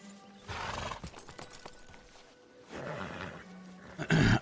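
Horse sounds from the Red Dead roleplay game WildRP, with hoof clip-clops and a whinny rising in bursts over a low game ambience, a loud snort or neigh closing the moment.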